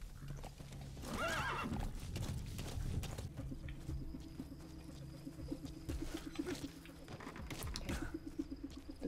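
A horse in the video game Metal Gear Solid V: The Phantom Pain whinnies loudly near the start, then its hooves clip-clop in a steady galloping rhythm, with birds cooing faintly in the background.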